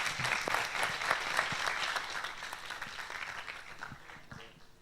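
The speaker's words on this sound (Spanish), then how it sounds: "Un aplauso a Axel, hombre." Audience applause at a university student association presentation, moderately faint scattered clapping that fades gradually over a few seconds with no voices on top.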